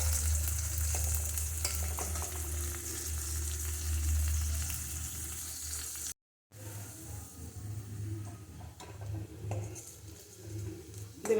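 Small shallot-type onions sauté in a pan for a quick idli and dosa chutney, sizzling steadily up close with repeated spatula stirring scrapes and a brief silent gap partway through, no talking.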